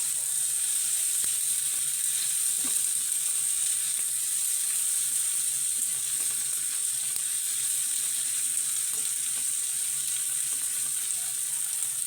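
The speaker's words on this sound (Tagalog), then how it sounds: "Halu-haluin lang natin." Tomato and squash being stirred in a frying pan, a steady bright sizzle running continuously throughout with faint scraping under it, no voices.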